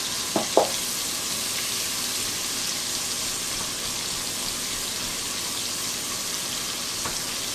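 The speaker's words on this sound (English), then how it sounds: "So we're going to saute these on up with all that good seasoning down there." Bell pepper and vegetables sautéing in seasoning in a pan for a Southern-style oxtail dish, a steady close sizzle throughout with a couple of brief utensil clicks near the start.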